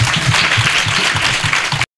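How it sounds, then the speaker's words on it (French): Loud, steady applause from an audience at an NGO donation ceremony for school kits, continuous dense clapping that cuts off abruptly near the end. "Je vous demande de l'applaudir encore très fort."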